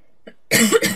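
A single harsh, loud cough bursts out close to the microphone after a brief faint breath, part of a strong coughing fit.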